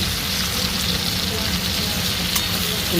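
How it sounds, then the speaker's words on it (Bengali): Long beans fry in hot oil with turmeric and salt, giving a loud, close, continuous sizzle with a dense crackle that never pauses. "ভাজা হচ্ছে। হলুদ আর লবণ দিয়ে দিলাম।"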